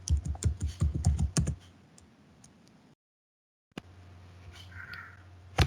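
Rapid computer keyboard clicks typing a text label while building a Microsoft Power Apps screen, a quick close burst of keystrokes, then quiet and a single later tap.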